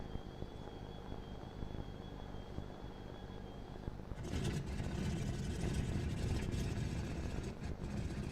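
A Wellington bomber's left engine is started in a flight game. A low steady hum with a thin whine turns into a louder, rough rumbling drone about halfway through, with no talk.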